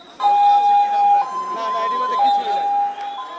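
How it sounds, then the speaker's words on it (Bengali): Ambulances rush toward hospitals after a plane crash, their siren sounding loud and near in steady two-tone alternating blasts, with voices talking in the background. "একদিকে অ্যাম্বুলেন্সের পর অ্যাম্বুলেন্স ছুটে চলেছে বিভিন্ন হাসপাতালে।"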